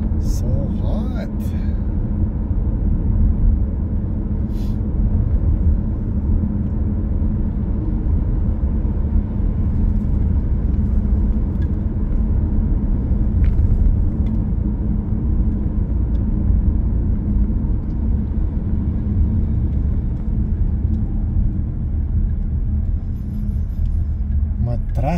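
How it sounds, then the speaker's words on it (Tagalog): Long-weekend road traffic on a hot day in Canada sounds like a loud, continuous low engine rumble from passing cars, steady throughout with a few faint clicks and no distinct voices. "Traffic na dahil long weekend."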